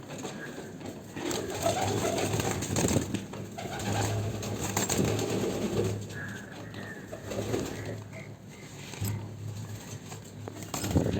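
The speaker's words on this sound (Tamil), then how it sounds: "ஏன்னா எல்லாம் பெரிய புறாங்க இருக்குது" Large pigeons coo continuously inside a cage, low throaty calls overlapping near and far, with wing rustles and scratchy movement running beneath.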